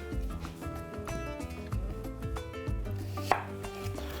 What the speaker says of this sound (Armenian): 2 գլուխ սոխ, կտրատում ենք մանր եւ տապակում